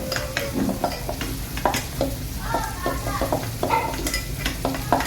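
Soaked poha (flattened rice) is stirred and separated in a pan with steady scraping and clinking strokes over a low sizzling bed, close and moderately loud throughout.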